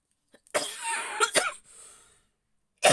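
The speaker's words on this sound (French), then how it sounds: "Je suis vraiment désolée de tousser." A woman coughs indoors during a haul unboxing, a harsh burst of several close coughs, then a pause and one more sharp cough at the end.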